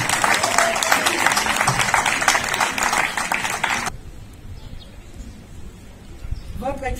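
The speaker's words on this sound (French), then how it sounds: "Je vous demande de l'applaudir, de l'accueillir" An audience at a ceremony honouring a women's movement claps loudly and densely for about four seconds, then cuts off abruptly into quiet room tone with faint voices stirring.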